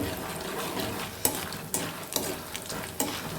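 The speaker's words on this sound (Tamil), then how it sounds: "இது கொஞ்சம் பொரிய ஊட்டி எல்லாத்தையும் ஒன்றா போட்டு நம்ம பொரிச்சிடலாம்" Dried manathakkali and sundakkai berries fry in oil in a pan with a steady sizzle. A utensil stirs them, making several distinct scrapes and clinks against the pan.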